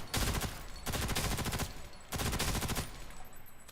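Automatic gunfire in Ghost in the Shell: Stand Alone Complex First Assault, three loud sustained bursts of rapid shots separated by short pauses, with no talking.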